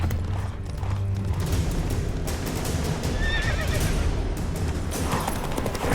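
In the game The Witcher 3, rapid hoofbeats of a galloping horse pound steadily through a dense, noisy mix, with a whinny partway through and crashing game sounds around it.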